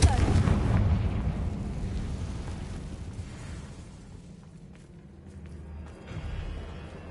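A Confringo blasting spell in a Hogwarts video game bursts with a loud, booming explosion at the start, its rumble decaying over several seconds before a smaller swell near the end.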